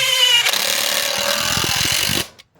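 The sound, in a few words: power tool driving 3-inch screws into wood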